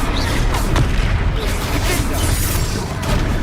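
A Confringo fire-blast spell erupts in Hogwarts Legacy, a loud, booming explosive roar that stays dense and rumbling throughout, mixed with battle noise.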